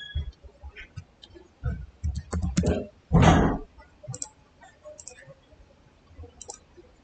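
Clicks and taps on a computer keyboard while a command is typed, in irregular short bursts including one louder cluster, close and moderately loud with no talk.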